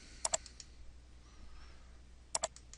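Computer mouse clicks in marine diagnostic software come as two faint, quick double clicks about two seconds apart over a quiet background hiss.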